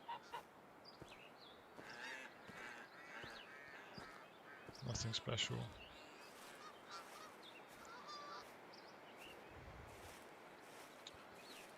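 Ducks call repeatedly in Hunting Simulator 2 across a forest waterside scene, giving scattered honking quacks at moderate distance, with someone talking over them and quiet outdoor ambience beneath.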